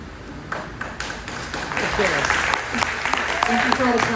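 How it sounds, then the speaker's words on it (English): An audience claps, starting with scattered claps and building into fuller applause mixed with a few bright pings, fairly close and loud, with a voice speaking over parts of it. "Thank you for all the claps"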